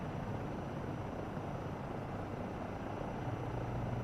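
A simulated helicopter in Microsoft Flight Simulator 2024 on PS5 Pro flies with a steady, even rotor and turbine drone, continuous and moderately loud with no voices.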